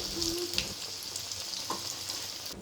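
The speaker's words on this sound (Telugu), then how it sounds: "అప్పుడే ఒకదానికొకటి అంటుకోకుండా పర్ఫెక్ట్గా ఫ్రై అవుతాయి." Potato bajji fry in hot oil with a steady, bright sizzle, spaced apart in the pan so they cook without sticking. The bubbling runs continuously and close, with a few small pops and no voices.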